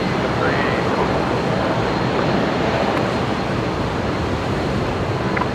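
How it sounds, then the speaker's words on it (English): A Qantas Boeing 737 touching down at Brisbane Airport, with a continuous loud broadband roar of jet engines and rushing air that holds steady throughout. "Now Qantas 632 just about to touch down on my side here, Matt."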